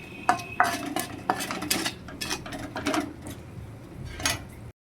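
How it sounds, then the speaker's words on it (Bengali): A spatula scrapes and clatters against a metal pan while garlic-onion paste is stirred, in a series of close, uneven metallic strokes and knocks that stop abruptly at the end. "রসুনের পেঁয়াজটা আমি দিয়ে দিলাম পেস্টটা দিয়ে একটু নেড়ে চেড়ে নিচ্ছি"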